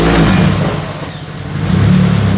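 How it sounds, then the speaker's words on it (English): A car engine fitted with an AEM oil pressure gauge and no IAC catches and revs in the cold, loud and close, dipping briefly before rising into a steady higher idle. "So here we're going to start this up now."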